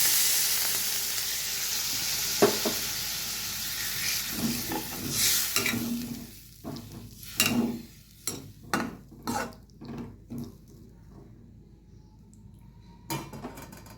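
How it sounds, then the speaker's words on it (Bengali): Fish curry gravy of tomato and spices sizzling in a pan for a Bengali-style amudi fish dish, a fading hiss giving way to a run of rhythmic, distinct scraping stirs against the pan, close and clear, no talk. "আর এই ঝোলটা ফুটতে দেব।"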